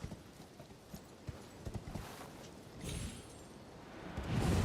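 A horse gallops in the video game Elden Ring, making faint, quick, rhythmic hoof clops over a soft background hiss that swells louder toward the end.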